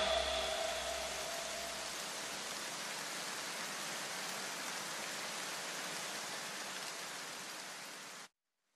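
Heavy rain pouring down in Kukanet forest in Punjab, a dense, loud, unbroken hiss of rainfall that holds steady for about eight seconds before cutting off abruptly.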